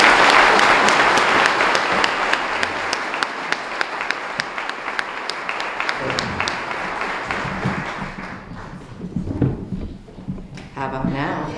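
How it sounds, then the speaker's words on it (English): Audience applause at an award ceremony for a state representative, a dense burst of clapping that fills the room for about eight seconds, then thins out into scattered claps as a speaker starts talking. "Can we give them all a round of applause?"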